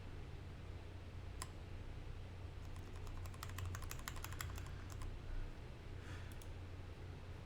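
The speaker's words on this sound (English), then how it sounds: "I'm still clicking." Rapid computer keyboard and mouse clicking during an online Pokémon battle session, a quick burst of dense, close clicks in the middle with scattered single taps around it over steady low room noise.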